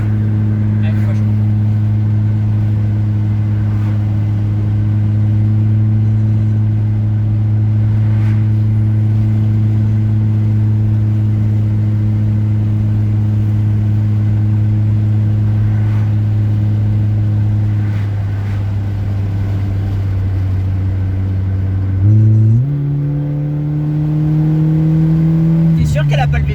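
A Honda Prelude with a carburettor runs loud and steady from inside the cabin, its droning engine note holding level before shifting and climbing as it revs, with people talking over it.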